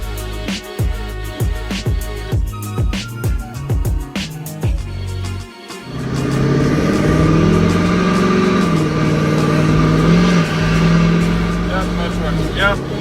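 A tuned pickup truck's engine revs and pulls hard under acceleration, the turbo spooling up into a steady sustained drone, preceded by a series of rhythmic knocks and clunks while driving.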